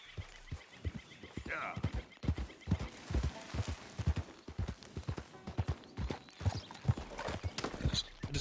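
Horse hooves clip-clop in a steady rhythm in Red Dead Redemption II, with a neigh partway through and someone talking over the hoofbeats.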